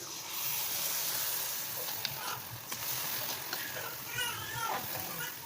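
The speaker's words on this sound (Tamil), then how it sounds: "எண்ணெய் வந்து சூடானதும் நாம் வந்து மிக்ஸ் பண்ணி வச்சுருக்கிற அந்த காலிஃப்ளவரை இதில் போட்டு பொரிச்சு" Battered cauliflower pieces for gobi manchurian fry in hot oil in a kadai, giving a steady, close broadband sizzle and hiss throughout, with faint background voices and occasional light clicks of stirring.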